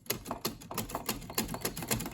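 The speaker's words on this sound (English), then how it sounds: "Yeah, Remington portable typewriter, has a literature in it." A Remington portable typewriter being handled gives off a quick run of sharp mechanical clacks and rattling keystrokes, fairly quiet and irregular, with no voices.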